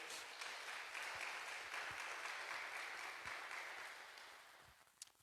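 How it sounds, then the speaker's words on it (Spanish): A church congregation applauds together in a dense, even patter of clapping that holds steady, then thins and fades toward the end, heard at a distance and fairly quiet. "denle un aplauso ahí al Señor, por favor."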